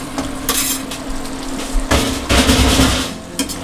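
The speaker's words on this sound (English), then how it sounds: "I'll go ahead and bring in all that beautiful fried eggplant" Fried eggplant hitting a hot wok of sauce over high heat for Sichuan fish-fragrant eggplant, with bursts of sizzling and clanking of a utensil against the pan in several loud surges.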